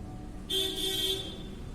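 A car horn blares in one sustained honk lasting about a second, over a low, steady rumble of road traffic.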